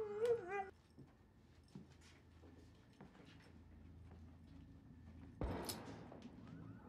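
A dog whimpering in a scene from The Last of Us TV series, a brief high wavering whine at the start followed by quiet background sounds and a sharp burst later.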